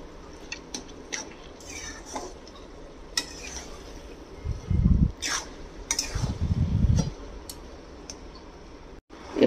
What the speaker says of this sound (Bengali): খোলা অবস্থাতে এটাকে আবার নাড়ব।